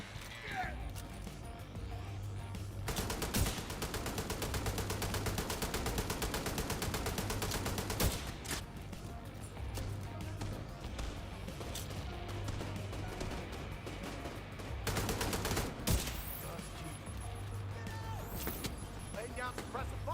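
Suppressive gunfire in The Division 2, long sustained bursts of rapid automatic fire with short gaps, mid-loud and steady, with a voice talking over parts of it.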